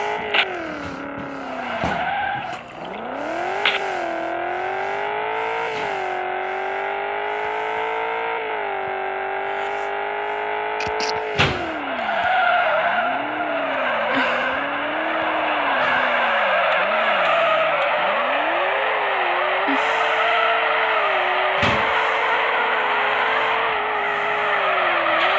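A car in a driving video game revs and screeches through long, continuous tire skids, engine pitch rising and falling steadily with brief bumps, loud and close throughout.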